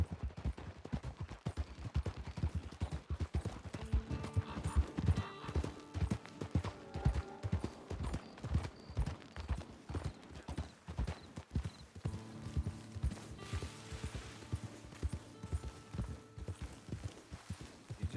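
Horse hooves clip-clop in a steady, quick rhythm throughout a ride in Red Dead Redemption 2 Online, loud and close, with faint tonal music underneath and no talking.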